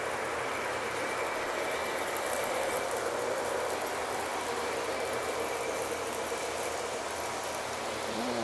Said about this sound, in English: And trains on their way.